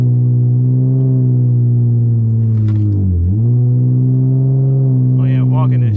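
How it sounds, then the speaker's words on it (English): A tuned V6 Dodge Charger idles loudly up close, its engine rising and falling in pitch as it revs for a burnout, with a dip and recovery midway and no talk over it. "See if I can get y'all a quick little walk-in burnout."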